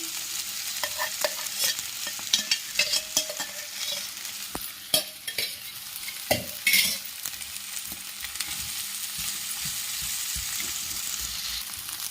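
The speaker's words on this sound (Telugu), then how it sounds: "కలిపి మీడియం ఫ్లేమ్లో ఈ వైట్ అంతా పోయే విధంగా కొంచెం ఫ్రై చేసుకోవాలి." Soaked sago pearls fry in a pan over medium flame, a soft sizzle broken by repeated spoon scrapes and stirring clatter, busier in the first half, then settling into steady frying.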